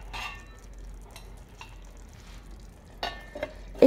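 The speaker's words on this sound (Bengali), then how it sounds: "মাংসটা দিয়ে আমি ভালো করে নাড়িয়ে চাড়িয়ে লবণটা দিয়ে আমি ভালো মতন করে নাড়িয়ে নেব।" Chicken meat being stirred with salt in a pot, giving a soft, steady scraping and faint sizzle with a few sharper utensil knocks near the end, no talking.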